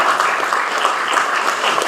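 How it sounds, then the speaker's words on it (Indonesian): An audience at a university new-student orientation event applauds, a dense, steady wash of clapping from many hands that stays loud and even for the whole moment. "Tepuk tangan buat Anda nanti."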